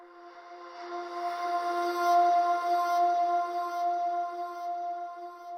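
A sustained, smeared vocal tone played in reverse, pitch-corrected with auto-tune and washed in vintage reverb and delay, swelling and fading smoothly for a few seconds with no other sound.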